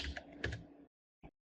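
Computer keyboard typing: a quick run of soft, close key clicks, then a pause of silence and one final keystroke.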